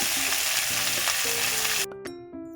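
Crushed small onions and crushed garlic sauté in oil with a little fenugreek for a traditional sambar, giving a busy close sizzle with stirring, before it cuts away to a quieter tonal ringing at the end.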